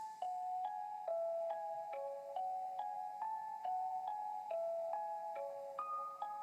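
An Omnisphere In Memoriam 1 preset plays a dry counter melody without effects: soft, bell-like synth notes step along at a steady, moderate pace, each with a short attack and gentle decay, with nothing else behind them.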